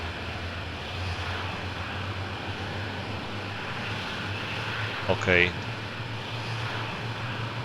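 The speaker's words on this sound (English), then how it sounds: "And the engine is starting." An F-16 jet engine starts up in the Falcon 4 Allied Force flight simulator: a steady, droning whine and rumble fills the cockpit throughout, and a voice speaks briefly near the end.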